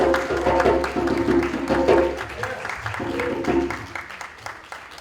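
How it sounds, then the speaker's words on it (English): An audience applauds after a poem at a Juneteenth gathering, a sustained patter of clapping that gradually thins and fades toward the end, with a low hum underneath. "Let's give her another round of applause."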